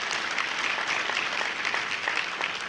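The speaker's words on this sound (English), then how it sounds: "Let's give the entire staff here a big round of applause for their continued support." A room full of guests applauds the staff at a golf awards luncheon, with continuous, dense, moderately loud clapping throughout and no speech over it.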